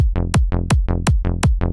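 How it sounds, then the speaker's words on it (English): A punchy trance-style hard dance synth bass pulses in a steady offbeat pattern, each note sliding downward, alternating with a sharp kick-like hit, loud and close. "Whether it's this sound here, the kind of more trancey sound,"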